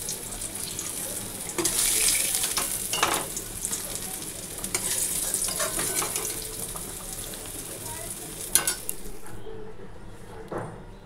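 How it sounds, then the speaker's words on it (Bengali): Fish head being fried and reheated in a pan in a home kitchen, with a steady close sizzle and stirring, some bursts of louder spattering and one sharp knock near the end. "এই যে মাথাটা একটু ভেজে নেব, মানে গরম করে নেব আর কি"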